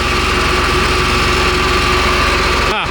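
A tractor pulling a tiny peanut sprayer, its engine running loud and close with a steady throbbing idle that stays even throughout, ending with a brief clunk.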